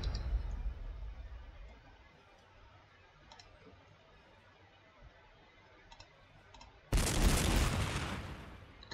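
Artillery fire in the Warhammer 40,000: Sanctus Reach strategy game: a deep low rumble fades out early, a few faint ticks follow, then a loud broadband blast bursts in near the end and sustains.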